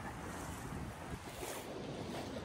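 Ocean waves washing onto a beach in Pangasinan, a soft continuous surf wash mixed with wind buffeting the microphone, with no voices.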